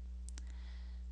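A computer mouse gives a quick double click on an installer file, two crisp close clicks over a steady low electrical hum, no talking.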